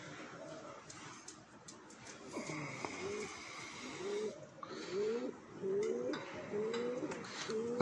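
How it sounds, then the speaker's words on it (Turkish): Pigeons on and around a rooftop coo in soft, repeated rolling phrases that build in the second half, with faint background noise and some quiet human sounds beneath. "Yani aşağıda da kuş var arkadaşlar. Çatının üstünde de kuş var."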